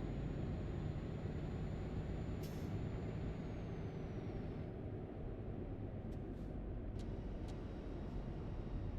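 A heavy truck's retarder brakes in Euro Truck Simulator 2, a steady low rumbling drone under a faint fading whine, followed by a few short hissing air releases.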